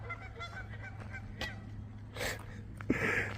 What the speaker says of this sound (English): Sounds like a goose.